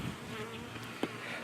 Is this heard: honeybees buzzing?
yes